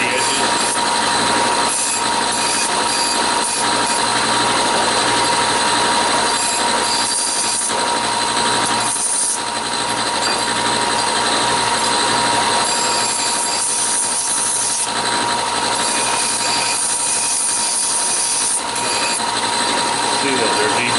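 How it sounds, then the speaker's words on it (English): Belt sander fitted with a 120 grit belt, deburring the edges of metal parts for a Halloween prop scissor mechanism. A loud, steady motor and belt whir runs throughout with little change in level. "belt sander, you know, like a 120 grit belt on there."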